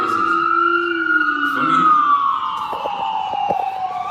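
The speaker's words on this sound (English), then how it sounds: "Ain't a day that's gonna go by where you don't hear no sirens, bro." Emergency vehicle sirens wail on a New York street in Harlem, a loud rising and falling tone that sweeps up and down for several seconds with a second siren layered beneath, and traffic rumble in the background.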